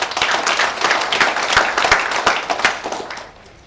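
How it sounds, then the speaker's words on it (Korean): Audience applause welcoming a speaker to the stage at a Busan community gathering, dense clapping from a crowd at steady strength that thins and fades out in the last half second. "큰 박수로 환영해 주십시오."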